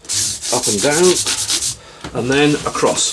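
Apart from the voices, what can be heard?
sanding a Telecaster guitar fretboard and frets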